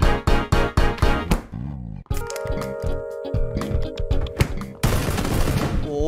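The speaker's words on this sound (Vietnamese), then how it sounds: "Bắn hết đạn vào đầu luôn." Rapid bursts of gunfire from a shooting video game, a quick string of sharp shots followed by a dense, continuous volley with in-game effects layered between.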